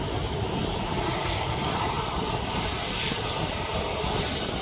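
Jet airliner in Jet2.com livery passing overhead near East Midlands Airport around Kegworth, a steady broad engine roar that holds loud and constant throughout without letup.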